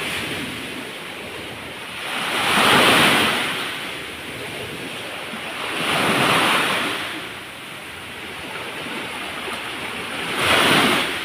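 Sea waves rolling in and washing up on shore, three slow swells rising and falling about every four seconds over a constant roar of surf and wind, loud and close with no voices.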